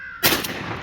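A single close, loud shotgun blast during a crow hunt in Western New York, cutting in sharply after near silence and leaving a broad noisy tail that fades over the next half second.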